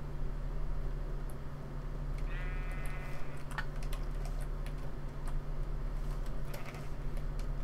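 Sheep bleating in the Minecraft video game, a single short bleat standing out over a steady low hum and light clicking.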